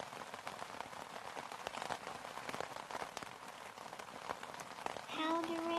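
Steady rain pattering on a surface, a dense hiss with scattered drop impacts, and a brief tonal sound near the end.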